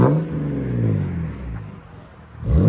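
A 2010 BMW 128i with a Cherry Bomb glass pack exhaust revs up and settles back, a deep burbling drone rising and falling up close, with a second rev climbing at the end.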